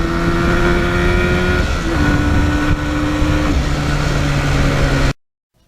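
A 1977 Yamaha RD400 two-stroke motorcycle being ridden through its gears, its loud buzzing exhaust note holding steady and then stepping in pitch between shifts before cutting off sharply.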